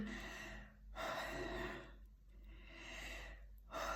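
Slow, deep breaths drawn close to the microphone, about three long inhales and exhales in a steady rhythm, with no talking.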